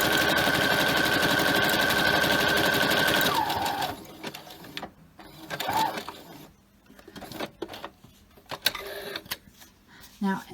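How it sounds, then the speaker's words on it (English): A sewing machine stitching through a paper page, running as a loud, steady mechanical whirr for about three seconds before stopping, then quieter handling clicks and rustles with a voice. "easily run a page through the sewing machine"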